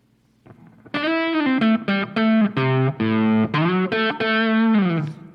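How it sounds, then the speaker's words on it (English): A distorted Electra Omega X210 Les Paul-style electric guitar, made in Japan, plays a quick run of sustained, buzzing notes, loud and saturated, ringing out alone. "If you want to hear a little bit of distortion."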